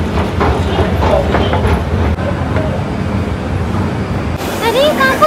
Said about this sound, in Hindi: ये दिल्ली मेट्रो स्टेशन है, यहाँ पे तो पहली बार आई ना, बड़ी जगह बहुत।